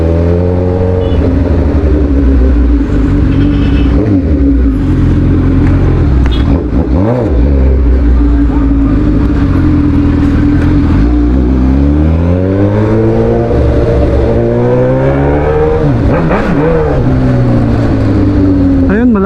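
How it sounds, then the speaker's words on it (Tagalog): A Suzuki GSX-S1000 motorcycle with a long-tip exhaust roars loudly on the road, its engine note climbing and falling through repeated revs and gear changes, with a rider's voice occasionally over it. "Napakatunog ng kanyang tambutso"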